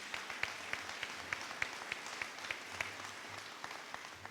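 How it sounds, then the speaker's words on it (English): Applause for VA clinic staff at a ribbon-cutting ceremony in Huntsville comes from a small crowd, heard as a modest burst of steady clapping with some sharper individual claps, fairly distant and soft. "And how about a round of applause for them as well?"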